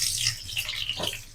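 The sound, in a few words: onions sizzling in hot oil in a kadai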